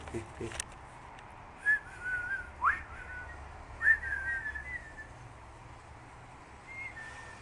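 A few clear whistled bird calls ring out at intervals over quiet outdoor ambience, with a brief clatter at the start.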